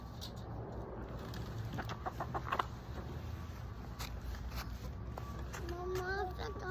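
Hens being shifted by hand in a garden coop, with soft clucks and scattered rustling and patter close by, while people talk quietly in the background.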